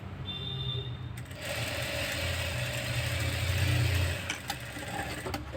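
A sewing machine runs a double stitch along a piping blouse, a steady close mechanical whirr with a stronger middle stretch and a few sharp clicks near the end, with no talking.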